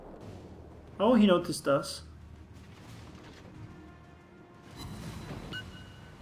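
Warship main guns fire in World of Warships during a naval battle, a loud burst of heavy booms in quick succession followed by a second shot, with someone commenting over them.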